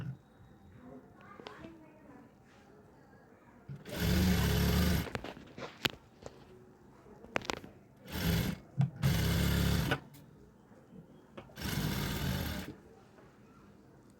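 A sewing machine stitches fabric folded over buckram in a boutique, running in several loud, close bursts of rapid whirring separated by quieter pauses with faint background sounds.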